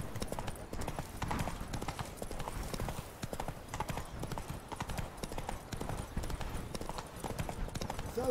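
Roach, the horse in the video game Witcher 3, walks with steady clip-clopping hooves on a hard surface, the even rhythmic footfalls continuing throughout at moderate loudness with no talk.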